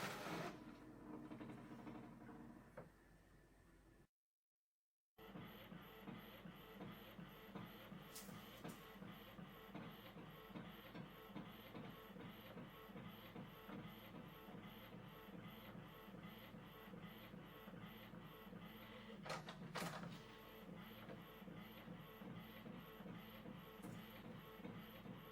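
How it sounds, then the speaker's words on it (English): An Epson ET-8550 inkjet photo printer prints a small-size page sent over wireless, giving a steady close mechanical chugging with a rhythmic shuttling beat and a few brief whirring feed sounds, running alone without talk for about twenty-five seconds. "The printing is through wireless, which means it takes a while to transfer all the data"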